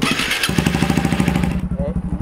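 A Honda Bros 160 motorcycle with a straight-through exhaust starts up and settles into a rapid, pulsing idle close by, with a brief quieter tail at the end.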